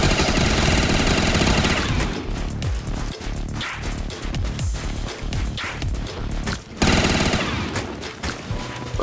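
Rapid automatic gunfire in Call of Duty Zombies on a custom icy alpine map, loud bursts of shots with brief pauses, one strong burst opening and another near the end.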